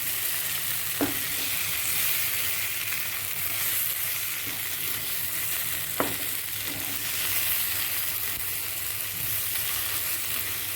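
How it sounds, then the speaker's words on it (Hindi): Methi chicken masala fries on low heat in a pan, giving a steady, even sizzle throughout, broken by two faint utensil clicks. "बस अब इसको कम सेक पर भूनने देंगे"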